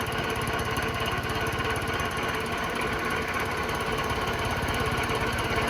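Machining the deck of a Honda K series engine block with a diamond-tipped machine tool produces a steady, loud, continuous grinding whir with a rapid buzzing texture, running unbroken and with no talk.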